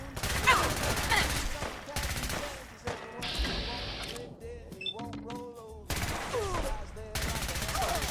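Fallout 4 gunfire in a loud firefight: bursts of shots recur through the scene, with voices speaking over parts of the shooting.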